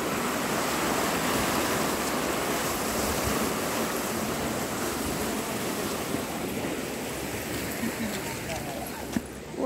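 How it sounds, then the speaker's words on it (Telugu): Water rushes fast through dam gates, a loud, continuous roaring wash that stays strong and steady throughout, with no voices over it. "ఎంత ఫాస్ట్గా కొట్టుకొస్తున్నాయి వాటర్."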